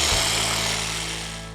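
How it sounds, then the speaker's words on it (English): An ECHO 56V battery hedge trimmer with 557mm blades hums loudly and steadily as it cuts a garden hedge. The motor drone stays constant with no voices. "Right, so that's that hedge trimmed."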